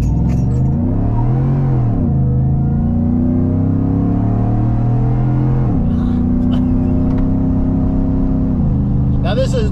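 Roush Nitemare F150 pickup with a 700 hp engine launching from a dig: loud, close engine roar that rises, holds, then climbs again through gear changes, with talk over it.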